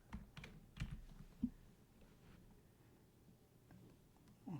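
Keys clack on a computer keyboard during data entry in an Excel spreadsheet, a few quiet, scattered taps with short pauses between them and no talking.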